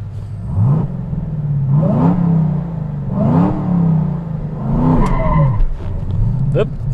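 A Hennessey HPE850 Hellcat engine revs in rising and falling surges as the car accelerates hard with traction control off, loud and close from inside the cabin, with a voice speaking over it.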